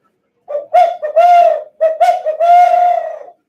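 Hooting owl call imitated by a voice to make a turkey gobble, a loud close series of rhythmic hoots in two phrases, the last one long and drawn out, alone in silence.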